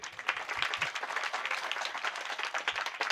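An audience at a Hari kirtan claps steadily and densely, a close, continuous patter of many hands with no pause.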